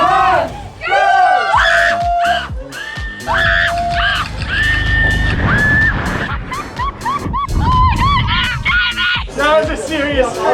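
A woman jumping from a gondola lets out long, loud, high-pitched screams in repeated bursts, with excited shouting and other voices mixed in around her.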